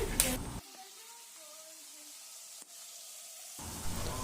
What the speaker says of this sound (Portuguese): o franguinho na panela aí, fritando já